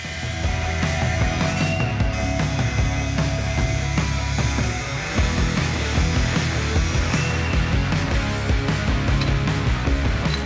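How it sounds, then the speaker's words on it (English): A power tool cuts through part of the factory steel stud on a 2021 Ford Bronco strut hat, giving a loud, steady grinding whine that runs without a break, with no talking over it. "cut a little bit of the OEM stud off of the hat"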